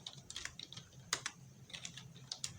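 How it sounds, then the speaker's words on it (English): Quiet, rapid keystrokes on a computer keyboard as an npm install command is entered, a brief run of light clicking taps with small pauses, close and soft. "I need to type npm install Nodemon"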